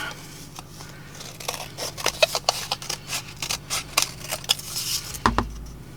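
Scissors snipping through collage board, a quick run of close, crisp cuts and papery rustles, with a louder clunk near the end.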